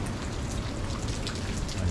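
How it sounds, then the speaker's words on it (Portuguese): Water drips and patters constantly inside a seaside cave, the Gruta que Chora at Praia da Sununga, a dense, even rain-like spatter close to the listener that carries on without pause. "Cai água o tempo todo aqui, ó."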